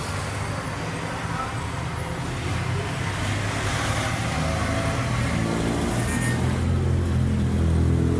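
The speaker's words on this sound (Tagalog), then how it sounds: "Hindi po sabog-sabog ang kanyang makina." An Isuzu C221 diesel engine in an owner-type jeep runs at a steady idle, a continuous low rumble heard up close with no talking.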